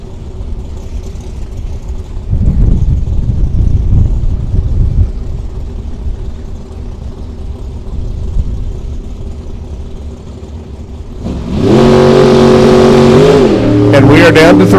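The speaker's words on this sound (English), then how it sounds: "Marco comes pulling in the Padella-powered Camaro Roadster-bodied machine" Padella-powered Camaro Roadster-bodied drag car at a Las Vegas drag race, its engine loud and rumbling under announcer talk, with a hard, harmonic-rich revving burst near the end.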